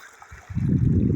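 Irrigation water gushes and gurgles steadily into a farm field, starting softly then growing into a full, close rushing flow that continues to the end.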